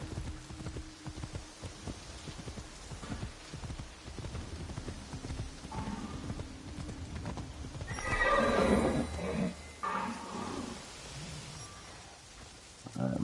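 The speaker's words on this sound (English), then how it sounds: "This is what I named my horse. Her name is Phantom." A horse named Phantom in the video game AC Shadows, with steady clip-clop hoofbeats and a loud whinny partway through, set against game ambience.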